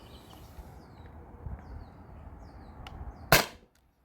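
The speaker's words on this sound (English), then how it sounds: "this is shot number 6" A Beeman BP50 air pistol fires a 12.3mm steel ball, giving one sharp, loud crack near the end after quiet low rumbling background, followed by abrupt silence.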